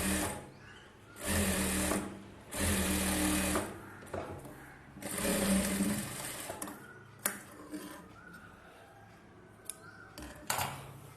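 A sewing machine stitches an Aari work blouse in several short, loud bursts of rapid whirring separated by pauses, followed by quieter handling clicks and taps.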